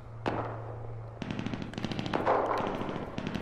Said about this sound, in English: They got some heavy guns over there.